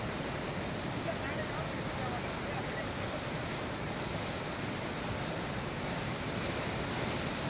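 Steady rushing water of rain-swollen streams and waterfalls after heavy monsoon rain in Karnataka, a continuous broadband roar with no breaks that sits at a moderate level throughout.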